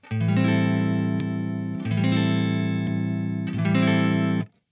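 Sustained guitar chords ring out through a JPTRFX Kaleidoscope reverb pedal, three long strummed chords in a row with a warm, slightly processed tone and no talking.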